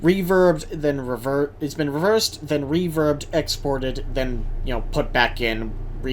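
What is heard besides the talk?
No distinct noise like a dog, phone or traffic.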